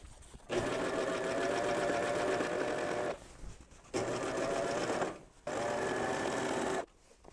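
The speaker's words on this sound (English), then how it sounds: "Now I'm going to sew it. Maybe a little shorter stitch length." A serger sewing machine stitches apron fabric in three steady, loud bursts of rapid whirring, broken by short pauses and with no talk over the motor.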